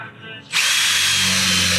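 A power drill bores the first hole into the metal body of a Sprinter van during a back window install. It starts abruptly after a short lull and holds a loud, steady, high whine close up.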